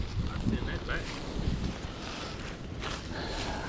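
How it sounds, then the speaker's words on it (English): Gusty wind buffets the microphone at a winter campsite, a steady broadband rush with stronger surges throughout, fairly close and loud, with faint background sounds and no clear speech. "the winds are gusty"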